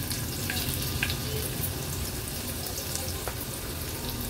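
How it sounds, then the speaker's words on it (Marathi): Garlic and two green chillies sautéing in hot oil make a steady, broadband sizzle with faint stirring clicks throughout, close and continuous, no voices. "तेलावर थोड्याशा परतून घ्यायच्या।"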